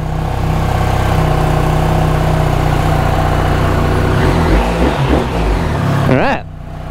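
A BMW R 1300 GS motorcycle engine turns over and settles into a steady, loud, close idle. A voice speaks over it near the end.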